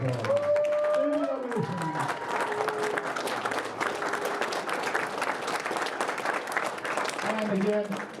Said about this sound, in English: let's stand there for a round of applause.